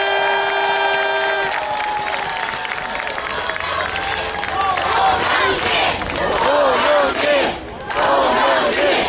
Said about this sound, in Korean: 우리 든든한 문재인 캠프, 든든한 총괄 선대본부장 송영길 본부장을 뜨거운 박수로 맞아주십시오.